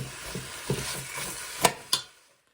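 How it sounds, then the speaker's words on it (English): Onions for French onion soup being stirred in a pot: a soft sizzle under a few scraping spoon strokes, then two sharper clacks before it falls quiet. No one speaks. "I'm going to stir this pretty consistently because you don't want them to stick to the bottom"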